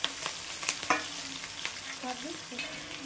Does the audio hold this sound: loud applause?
no